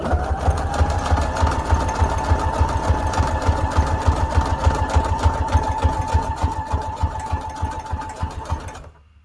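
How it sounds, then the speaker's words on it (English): A sewing machine zigzag stitches orange thread around an image on a junk journal tag, a loud, close, rhythmic chugging that runs steadily for several seconds before cutting off. "I'm going to be using a zigzag stitch first to go around the image in default settings because it looks so pretty."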